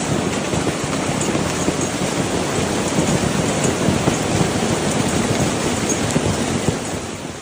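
A violent hail and rain storm over Paris, dense steady hiss of rain and hail pelting surfaces, a constant close roar with no voices.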